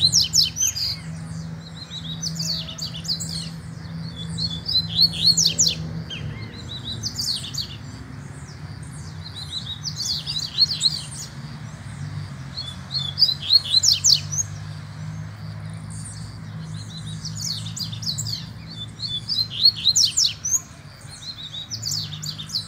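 Caged songbird, a corbatita or trinca-ferro, sings repeated bright chirping phrases in regular bouts over a low steady background hum, close and clear with no talk.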